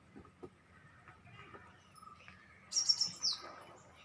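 Small birds at a nest, a parent feeding its chick: faint scattered chirps early on, then a brief burst of high, thin twittering calls near the end, close by and unaccompanied by talk.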